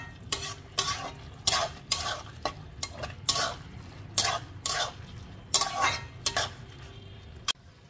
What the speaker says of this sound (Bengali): এবার গ্যাসটাকে একটু স্পিডে দিলাম, দিয়ে এটাকে খুব ভালো করে মিশিয়ে দিলাম